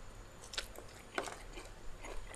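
Crunchy bites into fresh chili eaten with sticky rice and fermented fish, a few sharp close crunches followed by soft chewing, quiet and up close.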